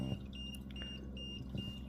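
An aquarium temperature monitor triggers its low-temperature alarm, giving a series of faint, high electronic beeps that repeat in a steady rhythm over a background hum.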